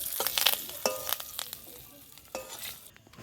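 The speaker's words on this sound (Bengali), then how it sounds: "বন্ধুরা এই দেখো আমরা কারি পাতা দিচ্ছি" Curry leaves hit hot oil at an outdoor picnic cook-up, giving close, crackling sizzles with sharp spitting pops that burst at the start and then ease into a softer, uneven fry with scattered crackles.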